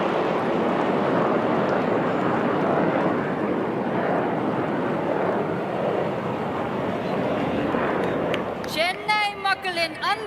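Indian Air Force Surya Kiran jets pass over an air show at Marina Beach, Chennai, a broad roaring rumble filling the air for several seconds before fading, then a voice speaks.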